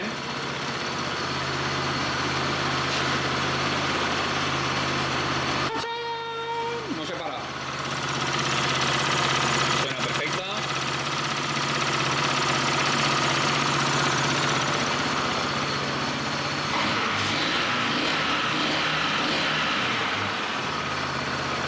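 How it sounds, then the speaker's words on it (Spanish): A motorcycle in a repair workshop, after a valve adjustment, cranks and starts, then idles with a steady low engine rumble; a person talks over it partway through. "Vamos a tirar a arrancar, a ver. La moto, sin hacer nada, se paraba."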